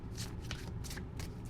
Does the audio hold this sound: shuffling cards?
yes